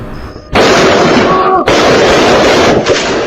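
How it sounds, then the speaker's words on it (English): Gunshots fired repeatedly at point-blank range at a gas station in the early morning, captured on a surveillance recording. The shots come as a loud, harsh, distorted blast of overlapping bursts that lasts almost the whole stretch, with one brief dip partway through. "a man shot multiple times at point blank"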